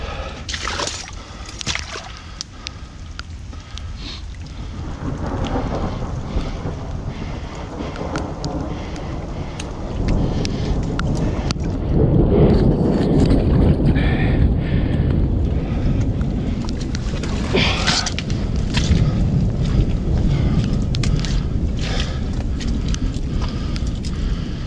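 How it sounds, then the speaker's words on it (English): Wind gusts outdoors near a beaver lodge as a storm approaches, buffeting the microphone with a constant rushing roar that grows stronger partway through. Scattered thumps and rustling footsteps are mixed in. "And that wind's picking up. That storm's fixing to be here."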